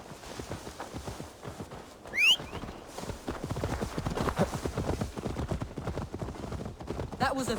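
Hooves of a horse clip-clop in Assassin's Creed Valhalla as it is led along, a steady rhythmic patter of mid-distance steps beneath game ambience, with a brief whinny-like squeal partway through.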